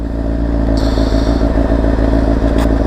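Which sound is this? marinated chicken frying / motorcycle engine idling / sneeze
motorcycle engine idling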